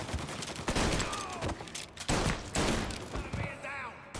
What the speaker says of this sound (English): Watch out for the machine gun.